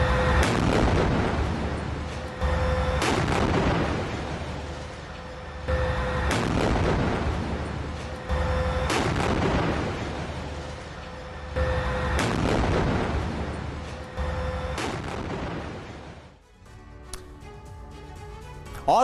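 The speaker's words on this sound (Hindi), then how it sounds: "तोप से हमास के लड़ाकों के ठिकाने को उड़ाया गया" Artillery cannon fire on Hamas positions in Gaza: a series of heavy booming blasts, roughly every three seconds, each with a rumbling tail, fairly distant and even in loudness, with no talking.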